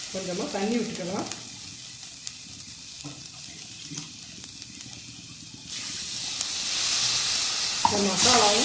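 Ground chicken masala paste sautés in a pan with water added, giving a steady sizzling hiss that swells louder toward the end, while a voice talks briefly at the start and close.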